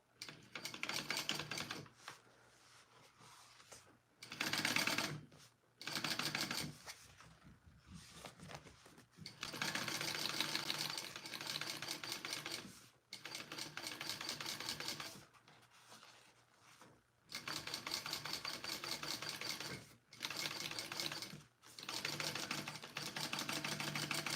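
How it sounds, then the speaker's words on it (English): A sewing machine top stitches along each side of a seam in long, steady runs of rapid needle clatter, broken by brief pauses, close and alone. "I'm just top stitching on each side"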